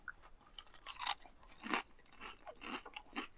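Close, crisp crunching of Fritos corn chips eaten with chili on a winter camping trip, several loud bites and chews in quick succession, with no talking.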